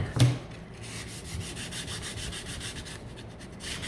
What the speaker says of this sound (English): you're just going to want to take your sandpaper and run it on both sides.